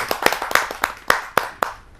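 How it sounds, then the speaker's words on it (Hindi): Audience at a Hindi poetry gathering clapping to welcome a poet, a sparse run of sharp separate claps, loud and close, with no talk. "आइए आप सबकी जोरदार तालियों से उनका स्वागत करते हैं।"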